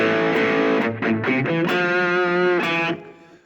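A distorted electric guitar plays an introduction riff, sustained chords broken by a few quick choppy stabs, loud and close with no voices.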